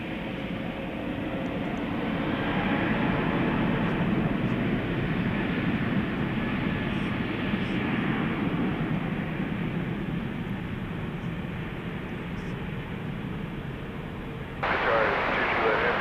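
Airliner taking off at night at DFW Airport, a broad steady jet roar that swells and holds for many seconds, heard from a distance with people talking over it.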